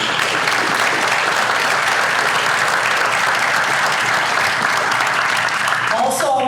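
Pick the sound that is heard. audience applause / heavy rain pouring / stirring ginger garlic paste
audience applause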